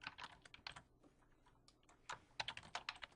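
Rapid, quiet clicking of typing on a computer keyboard, with irregular bursts of keystrokes, a short pause, then a quicker flurry.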